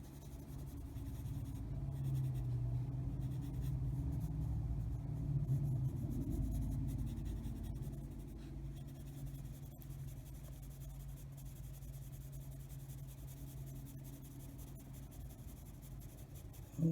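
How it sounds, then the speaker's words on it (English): Colored pencil shading lightly on paper in a coloring book, a soft, continuous faint scratching under low background rumble, steady throughout with no voices. "Just using the pencil very lightly,"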